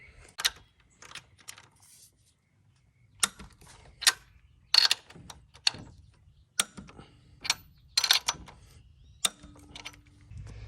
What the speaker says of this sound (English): once you get all these 5 bolts torqued down